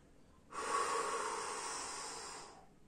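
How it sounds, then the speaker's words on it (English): A long, forceful exhalation during an abdominal vacuum core exercise, done kneeling: a sudden, close, breathy rush of air that starts sharply and trails off over about two seconds, with no talking. "I'm breathing out."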